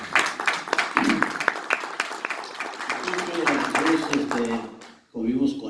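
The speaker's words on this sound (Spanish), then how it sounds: "Un aplauso para él." Applause at a school centenary ceremony in Tijuana, with brisk clapping filling the first few seconds before a speaker's voice takes over, talking through the fading claps.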